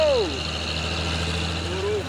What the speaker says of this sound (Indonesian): Masuk lagi satu di truk tangki CPO 6x4 HD nih ya.